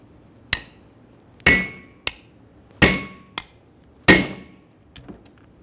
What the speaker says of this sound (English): Continue on with a steel driver, pressing it down as flat as possible until it's completely bottomed out against the brake rotor.